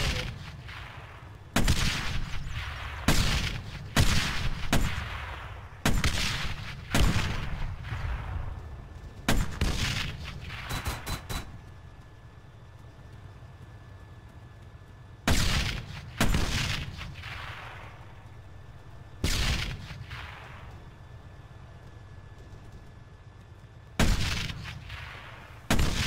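Heavy, loud bursts of gunfire in the video game ArmA 3 come in irregular clusters with booming reports, separated by quieter gaps with faint background hum.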